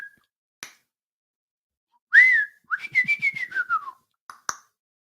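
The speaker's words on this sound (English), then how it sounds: "Series of whistles and clicks." A toy gives a series of electronic whistles and clicks: a lone chirp, sharp clicks, then a long rising-and-falling whistle and a warbling run of pulsed tones, separated by near silence.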